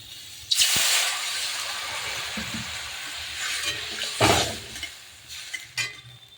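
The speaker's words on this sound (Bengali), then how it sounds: "এবার আমি জল দিয়ে দেবো।" Water poured into a hot pan of sizzling bitter gourd with small fish and potatoes sets off a loud burst of hissing steam, easing into a steady sizzle with a few stirring scrapes and a second loud hiss near the end.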